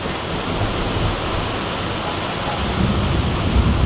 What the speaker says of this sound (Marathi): मुसळधार पावसामुळे रोहिडेश्वराचा जाण्याचा प्लॅनिंग कॅन्सल सोबत विजासुद्धा आहेत खूप साऱ्या विजा